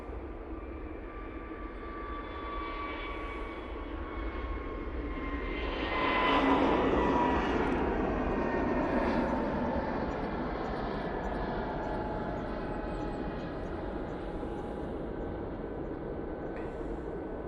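EasyJet Airbus A321neo departing Manchester Airport for Palma de Mallorca, a distant jet roar that swells to a peak midway, then settles into a long, steady rumble fading slowly.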